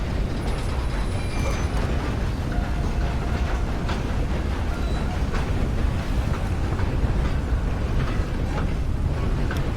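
A moving train in Red Dead Redemption 2, rumbling and clattering steadily with dense mechanical rattle and creaking throughout, loud and continuous with no talk.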